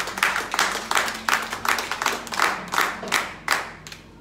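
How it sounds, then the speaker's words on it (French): A church congregation during a Wednesday service claps in a steady, rhythmic beat, about two claps per second, fairly close and without talk. "Applaudissez pour elle."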